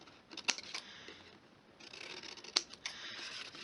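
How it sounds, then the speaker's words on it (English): Scissors cut straight along the score mark of a handmade greeting card, with two crisp, close snips separated by quieter sliding sounds of the blades on the cardstock. "I'm going to feel it with my scissors straight up the score mark."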